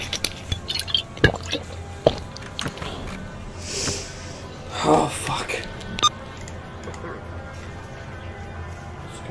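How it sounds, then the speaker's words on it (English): A character in the S.T.A.L.K.E.R. Anomaly game drinks water, giving wet squishy gulps and liquid drips in the middle of the clip, with soft game sounds and a few clicks around them. "Let's drink some water."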